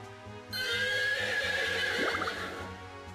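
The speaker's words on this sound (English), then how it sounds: "Sounds like a horse." A horse neighs in the video game Rune Factory 4, a loud close whinny beginning about half a second in and trailing off, over soft looping game music.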